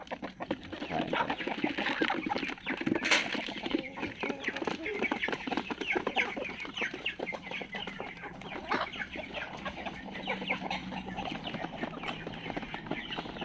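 A flock of Sasso chickens clucks and chatters continuously, with dense overlapping calls and one louder squawk, heard close by in a busy farm yard with some background noise.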